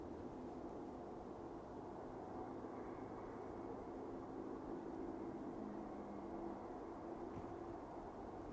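A Turkish Airlines airliner arriving at Manchester Airport at night, heard as a steady, distant low roar of jet engines that holds evenly for several seconds with no voices over it.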